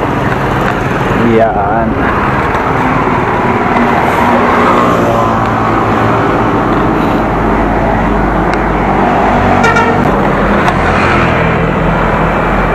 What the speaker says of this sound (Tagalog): At ito ako ngayon sa may highway.